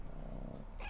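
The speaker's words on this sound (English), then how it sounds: "Oh, did you hear that? Meow." A pet cat named Puddon purrs steadily and close, a low rumbling drone, then lets out a short meow at the very end.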